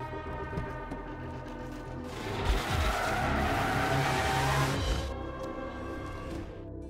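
An antique Mercedes is driven off fast, its tires squealing and skidding in a loud, sustained screech over engine roar that swells and then fades.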